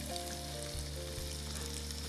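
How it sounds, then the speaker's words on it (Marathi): Finely chopped onion, about a bowlful, frying in hot oil in a pan, giving a steady close sizzle with a low crackling bed throughout and no voices. "आणि ह्याला आपण हलकासा परतून घेणार आहोत."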